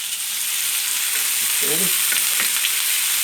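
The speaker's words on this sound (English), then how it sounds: "And we'll continue frying them until they've just started to brown." Chopped onions fry in heated olive oil in a pan, a steady bright sizzle that continues throughout while a voice briefly speaks.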